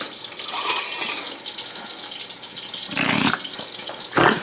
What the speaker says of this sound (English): Let me wash this plate off.